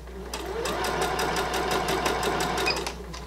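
A sewing machine stitching the finishing seam on a child's dress, running in one continuous fast whirring burst with rhythmic needle clatter, close up, starting and stopping within a few seconds.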